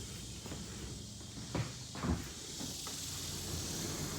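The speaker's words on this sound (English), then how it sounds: "Sliding door." A quiet sliding door of a tiny house rolls along its track with a couple of soft thuds, under a steady hiss of insects outside on a Texas summer day.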